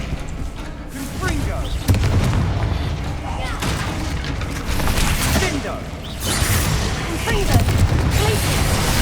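Confringo fire spell explosions in Hogwarts Legacy, a dense barrage of booming blasts and crackling bursts that fills the whole stretch, loud and close, with battle effects layered over one another.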